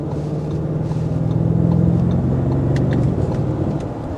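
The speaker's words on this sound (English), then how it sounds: "detuned Lamborghini engine. And I want to hear it because I'm paying extra for it" An Audi RSQ8 with a detuned Lamborghini engine driving in sport mode gives a steady, loud, deep engine drone that swells slightly midway, heard alone with no voices.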